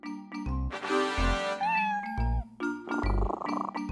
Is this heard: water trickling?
no